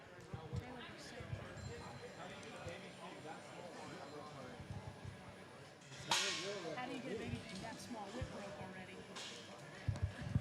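Whip cracks at a livestock pig show and sale with Berkshire gilts: two sharp, loud snaps, one near the middle and one later, over a busy crowd and a steady announcer's voice.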